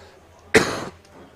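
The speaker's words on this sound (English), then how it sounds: "Whoever that is coughing in the background sounds like they got whatever it is that I've caught." A single cough from someone in the background of a poker tournament room, a short harsh burst of about a third of a second standing out from a quiet murmur.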